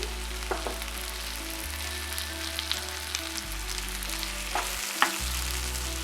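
Onion and tomato sauté together in a pan for a street-style masala puri, a low steady sizzle with occasional sharp scrapes and taps of a spatula stirring, close and unaccompanied by talk.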